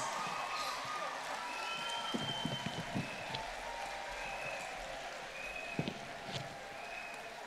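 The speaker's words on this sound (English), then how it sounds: "Audience, could you please stand and applaud our graduates?" A standing audience at the SVGCC 2023 graduation ceremony applauds the graduates with sustained clapping, scattered louder claps and voices mixed in.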